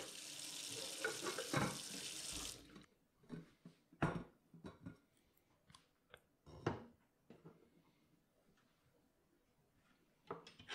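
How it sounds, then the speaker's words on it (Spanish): Water poured from a pot of boiled potatoes into a sink, a loud gushing splash for a few seconds followed by scattered drips, clinks and small knocks. "y drenar el agua."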